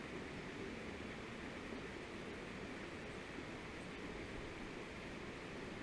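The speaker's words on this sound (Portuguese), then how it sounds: "Mas olha, ouve o barulho da água, ó." A small waterfall rushes in a steady, even wash of water that stays faint and unchanging throughout, with no voices over it.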